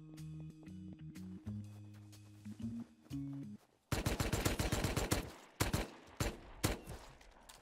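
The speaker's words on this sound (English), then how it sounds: "I heard some shots going off over by Oxum" Gunshots in the video game Rust, a rapid close volley of sharp cracks followed by several scattered single shots, after a stretch of tonal game music.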